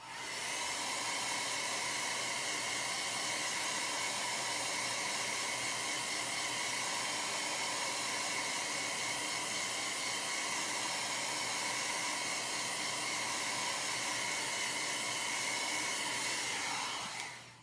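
A dryer blows steadily on chalk paste laid on a frame, a loud, even whooshing hiss that runs nearly unbroken for over fifteen seconds before cutting off, with no talk.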